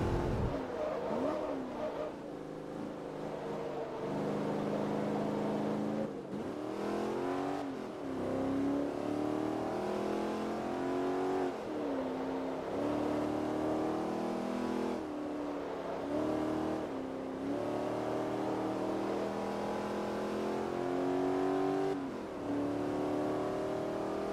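A Firebird Trans Am American muscle car racing in Forza Motorsport 3, its engine roaring loudly and continuously as it climbs through the revs, drops at each gear shift and climbs again throughout.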